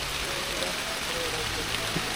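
Heavy rain pours down in a forest as a steady, close hiss of water with no breaks, holding a uniform level the whole time.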